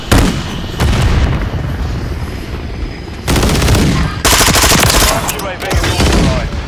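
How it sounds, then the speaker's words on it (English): Rapid bursts of automatic gunfire and heavy booms from a Call of Duty: Modern Warfare III match, loud and close, with a Semtex grenade blast among sustained firing that comes in dense waves with short lulls. "Throw Semtex."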